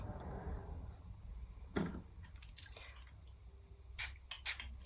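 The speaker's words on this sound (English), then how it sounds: "Okay, I sprayed my brush" A cosmetic setting spray is misted onto a makeup brush in a few short, close hissing bursts near the end, after a brief clack; a quiet room hum sits underneath and no one speaks.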